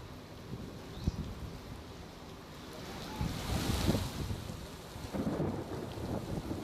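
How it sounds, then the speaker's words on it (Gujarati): Steady heavy rain hisses throughout while low thunder rumbles and rolls, swelling louder in the second half, during a lightning storm in Gujarat. "વીજળીના કડાકા ભડાકા સાથે વરસાદ થયો."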